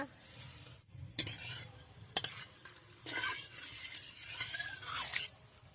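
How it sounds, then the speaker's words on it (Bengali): Dry red chillies and bay leaves hitting hot oil for a raw mango pickle, giving a steady close sizzle broken by a few sharp metallic clinks and scrapes of a spoon against the pan. "তেলটা গরম হয়ে গেছে এবারে আমি লঙ্কা দিয়ে দিলাম শুকনো লঙ্কা দুটো তেজপাতা"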